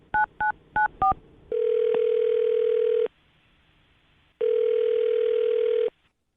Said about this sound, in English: I'm dialing this phone number right now